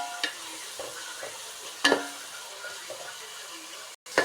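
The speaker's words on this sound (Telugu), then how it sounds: "ఇది బాగా పచ్చివాసన పోయేంత వరకు ఫ్రై చేయాలి." Ginger garlic paste with mint and coriander fries in a pan, a soft steady sizzle broken by a few sharp scrapes and clinks of stirring, close and fairly quiet.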